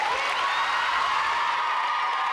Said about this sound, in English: Go ahead, clap for yourself.